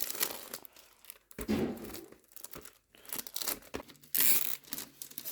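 Plastic and foil wrapping of an advent calendar being torn open by hand, heard close as a series of sharp crinkling and ripping bursts separated by short pauses.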